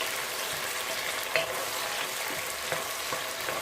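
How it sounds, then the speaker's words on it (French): Onions frying for rice, with a steady close sizzle under intermittent scraping stirs of the pan; no talking. "Tournons les oignons."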